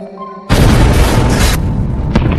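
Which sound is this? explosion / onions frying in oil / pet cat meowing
explosion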